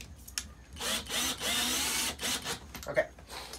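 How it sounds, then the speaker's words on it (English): A power drill runs in short bursts during a window air conditioner installation, whirring up and cutting off several times at close range, with brief gaps between pulls of the trigger. "Right, just go ahead and turn the drill."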